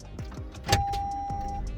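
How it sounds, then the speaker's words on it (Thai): A car's engine starts at the press of a push-start button with the brake held down, giving a short whirring crank and then a steady idle close by inside the cabin, with a faint electronic tone running over it. "เท้าเหยียบเบรกครับกดปุ่มพุชสตาร์ท"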